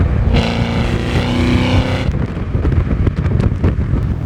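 A 2019 Chevrolet Camaro 1LE engine and exhaust in track mode, giving a loud, steady, droning roar for about two seconds before fading into rougher broadband rumble and wind buffeting.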